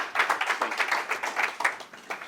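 A hall audience at a B'nai B'rith leadership gathering breaks into steady applause, a dense run of claps holding fairly even in loudness for a couple of seconds before easing off.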